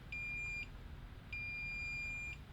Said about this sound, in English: Actually, it's 6 times and a long beep.